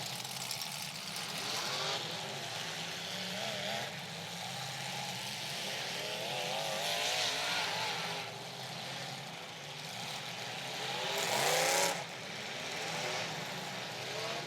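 Racing cars at the Sin City Showdown run on the throttle, engines droning and rising as they pass, with one louder surge near the end, all heard from a moderate distance.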